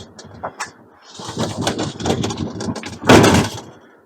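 A quiet, smooth storage shed door being operated in a small shed, giving soft rolling and sliding noises with a few light knocks and a louder clunk near the end.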